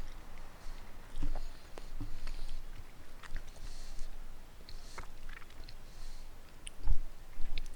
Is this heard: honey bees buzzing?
no